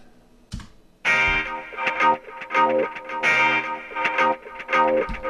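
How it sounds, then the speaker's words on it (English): A distorted, effects-laden electric guitar riff kicks in after a brief pause, chugging through choppy, rhythmic chords. "I put in a sort of a guitar riff behind the whole thing"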